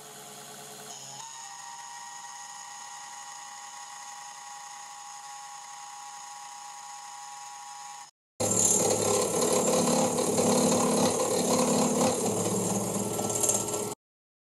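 A MAXNC CNC mini mill fitted with a 3D printed custom pulley whines with a steady high-pitched tone, breaks off for a moment, then returns louder and harsher as it cuts, running evenly up close before stopping.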